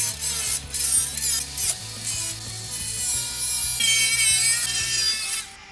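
Cutting into a Classic Mini scuttle panel with a tool, producing a continuous loud, harsh grinding rasp with shifting pitch and brief dips, close up and with no talk.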